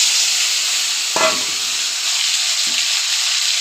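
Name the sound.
ground ginger, onion and cumin paste frying in pan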